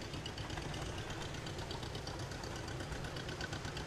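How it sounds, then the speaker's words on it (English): A 1949 John Deere MT tractor at a Fourth of July parade runs with a steady, continuous engine chug, a dense rumble with no breaks and no voices, as it rolls past. "We have Weston Schrock, a 1949 MT John Deere."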